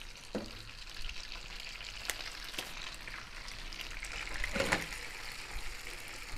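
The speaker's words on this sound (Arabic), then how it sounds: "هلا دابت الزبده بدي اياها تحترق، نحط النوي فوقها." Gnocchi fry in browned butter in a pan, a quiet, steady sizzle with a few brief crackles and stirring sounds, heard close and alone.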